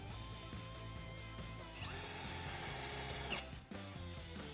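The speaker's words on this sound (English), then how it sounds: "I'm going to start off with a 3mm pilot hole and then move up to a 9mm to fit the nutset" Power drill boring a 3mm pilot hole for a nutsert on an Isuzu D-Max, a steady close motor whine that holds, briefly rises under load, then cuts off near the end, with no talk.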